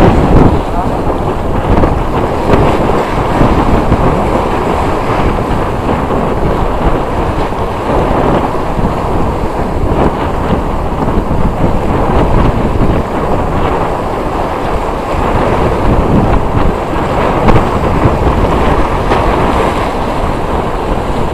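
Strong wind blowing across open sea aboard a small fishing boat, a steady loud roar of gusts and wave wash filling the whole stretch with no pauses.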